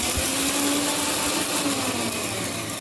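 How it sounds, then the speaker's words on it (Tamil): A loud, steady whirring of a mixer grinder grinding coconut, running continuously, close up, cutting off abruptly at the end. "அதுக்குள்ளே தேங்காவே அரைச்சி"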